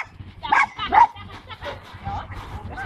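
A dog barking and yipping during a training session, a few sharp high barks close by followed by softer whining sounds, with a person speaking nearby.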